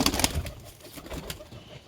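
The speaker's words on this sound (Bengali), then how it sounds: "খুবই ভালো মানের কবুতর, নর কবুতর" A male performing pigeon gives faint low coos amid light rustling and a few wing flutters nearby, quiet and brief.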